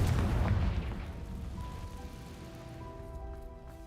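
A Confringo blasting spell bursts in Hogwarts Legacy, opening with a loud low boom that rolls into a decaying rumble, followed by faint ringing magical tones as the blast fades.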